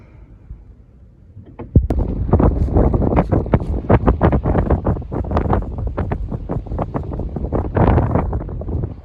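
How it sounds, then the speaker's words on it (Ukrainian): Strong wind slams into the microphone after a quiet start, producing loud, continuous buffeting with sharp gust thumps and a heavy low roar; the wind damaged a barn roof. "І вітер просто, просто скажений."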